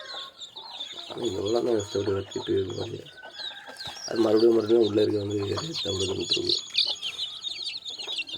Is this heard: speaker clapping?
no